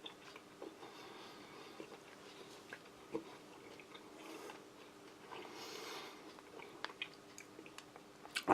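Crisp dark-chocolate-flavoured snack from a U.S. MRE menu being chewed up close, a quiet continuous crunching and munching with small clicks and no talking.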